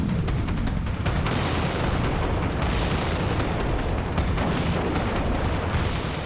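Heavy blasts and explosions from a news report on destruction in Iran form a dense, loud, continuous roar of rumbling booms with no pause.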